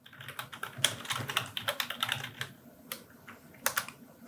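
A computer keyboard is typed on quickly in an irregular stream of close, sharp clicks, with a few heavier key presses standing out and brief pauses between bursts.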